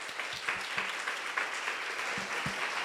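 Conference audience applauding at the end of a talk, a steady wash of clapping that sounds moderately distant and fills the whole moment, with a few low thumps and a faint voice underneath.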